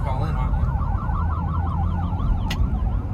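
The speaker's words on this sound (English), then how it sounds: "It's an ambulance." A passing ambulance wails close and loud, its siren rising and falling in rapid repeated sweeps over a low road rumble, with a brief clatter near the end and no speech.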